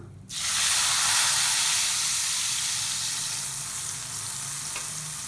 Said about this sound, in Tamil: இந்த கரைச்சி வச்சுருக்கிற புளி தண்ணியை ஊற்றிடலாம்.